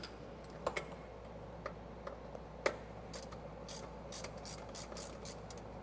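Ratchet wrench loosening a bottom plug on a used auction Porsche, faint scattered clicks over a quiet background hum, with a few sharper clicks standing out.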